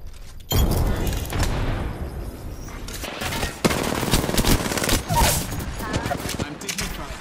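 Rapid automatic gunfire rattles in Apex Legends, dense volleys of loud shots in long bursts with a few heavier impacts, while a voice speaks briefly underneath.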